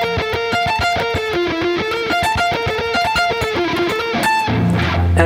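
Distorted electric guitar lick picked with a downward pickslant, a steady run of clear plucked notes with a sustained bend near the end, played close and loud with no talking.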